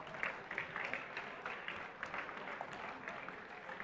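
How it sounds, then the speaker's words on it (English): Audience applause after a team receives an award at a FIRST Tech Challenge robotics qualifier in New York City, a steady wash of clapping from a crowd in a large hall with a few sharper claps standing out. "give them a warm round of applause"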